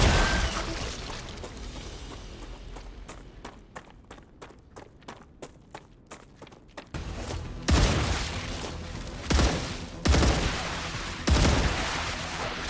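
Rapid repeated gunshots in a crafting and exploration video game, a quick regular burst of shots followed by heavier, louder booming blasts spaced a second or so apart, close and punchy with no talk.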